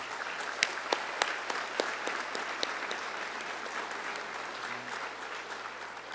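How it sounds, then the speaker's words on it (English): An audience at an agriculture development forum in North Carolina applauds, a sustained wash of steady clapping with a few louder individual claps near the start, gradually easing off. "Join me in giving them a round of applause."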